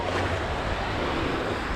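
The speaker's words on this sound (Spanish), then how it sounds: "De poder enfocar el mar así," Rough, churning sea waves roll continuously onto Playa Mamitas beach, a dense steady wash of surf with wind buffeting the microphone throughout.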